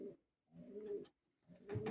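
Pigeons coo softly inside a pigeon loft, with three low, throaty bursts separated by short pauses, heard faint and fairly close with no talk over them.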